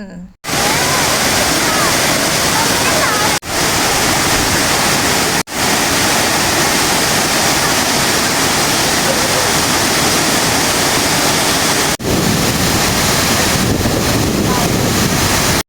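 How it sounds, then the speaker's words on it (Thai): Khlong Lan waterfall in Khlong Lan National Park, Thailand, roars as a steady, loud, close wash of falling water, with brief dropouts and some wind buffeting on the microphone. "มองมุมนี้น้ำตกคือสวยมากเลยค่ะ"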